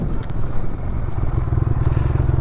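Bajaj CNG plus petrol motorcycle on a ride, its engine thrumming steadily and close with a pulsing low rumble, mixed with wind buffeting and faint rattles.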